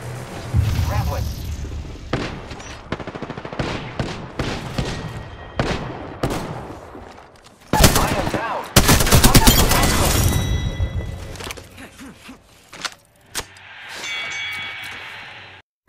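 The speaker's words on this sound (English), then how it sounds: "I am taking fire, friends." Rapid bursts of gunfire in the Apex Legends battle royale game, sharp repeated shots and a dense fusillade in the middle, loud and close, mixed with game effects and some talk.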